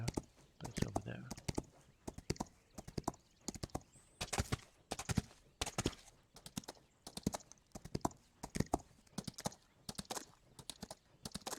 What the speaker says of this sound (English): That's a horse belonging to somebody, probably.